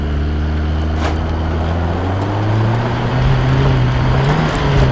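A car engine in the BeamNG driving game strains hard while climbing a steep off-road slope, a loud sustained drone with a slowly rising pitch as it pushes uphill.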